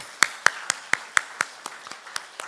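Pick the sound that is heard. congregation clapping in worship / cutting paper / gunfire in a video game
congregation clapping in worship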